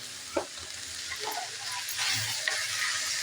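Fenugreek leaves sautéed and stirred in a pan for garlic methi: a steady close sizzle of frying with soft scraping stir strokes throughout, no voices.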